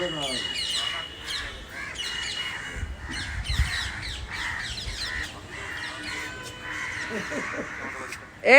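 Repeated harsh caws from several crows, fairly close, overlapping with chirps and other bird calls in a busy outdoor setting.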